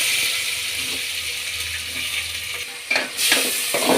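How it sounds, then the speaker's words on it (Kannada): Onions frying in oil in a pot, with mustard seeds and curry leaves, make a loud, steady hiss with a few stirring scrapes near the end. "ಈರುಳ್ಳಿ ಚೆನ್ನಾಗಿ ಬಾಯ್ಲಾಗಲಿ"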